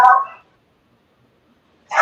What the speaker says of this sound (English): whose dog is barking?